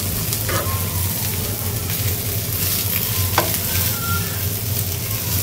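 Potato bhaji fries in a pan with a constant close, loud sizzle, broken by occasional scraping stirs of a spatula.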